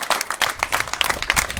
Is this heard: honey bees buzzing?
no